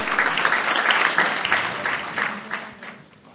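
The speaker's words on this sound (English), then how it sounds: "Let's give them a big round of applause." Audience applause at the India SME Excellence Awards ceremony, a dense wash of many hands clapping that stays full and loud, then gradually thins and fades toward the end.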